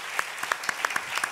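An audience claps at the presentation of the illustrated album 'Genios', a small, fairly sparse round of distinct, evenly spaced claps heard close and alone, with no talk.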